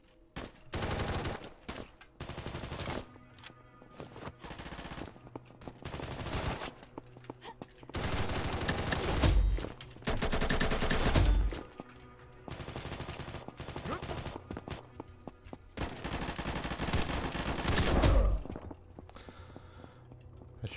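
Gunfire in the first-person shooter Combat Master comes in loud, repeated bursts of rapid automatic shots with short pauses between volleys, plus a few heavy booming impacts, all close and dominant with no talking.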